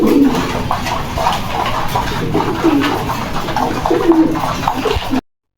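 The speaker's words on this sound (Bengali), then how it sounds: "এখানে আছে লটন কবুতর" Lotan pigeons at a pigeon farm coo in low, throaty, repeated rolling calls, loud and close, layered over a constant din of many other birds, ending in a brief silence.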